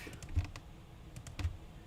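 Computer keyboard keys pressed while drawing shapes, with a couple of soft, low key thumps spaced apart over quiet room noise; no talking.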